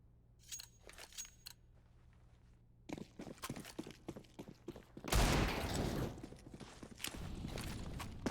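Bursts of rifle fire crackle through a competitive Counter-Strike match on the Mirage map, sparse single shots early, then a loud, dense volley of rapid gunfire from about five seconds on, with footsteps and gear rattling between.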